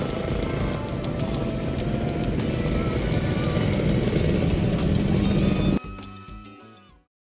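Motorcycles ride along the road, their engines giving a continuous, fairly loud drone that then drops away abruptly into a short, quieter fading tail.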